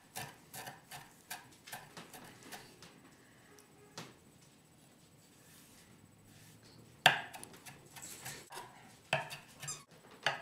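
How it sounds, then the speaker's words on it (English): A knife taps rapidly against a cutting board, chopping fresh parsley in short rhythmic runs, quiet and close, pausing briefly before a louder final burst of chopping. "We'll begin by chopping some of this parsley."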